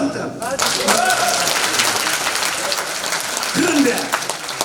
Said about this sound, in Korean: 대통령에도 박수 한번 드립니다.